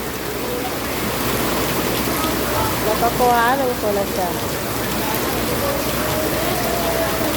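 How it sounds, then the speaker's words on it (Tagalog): Steady, dense rain hiss fills the whole recording, heavy and constant, with a person speaking briefly over it partway through. "grabe ang ulan guys. Super ang ulan ngayon."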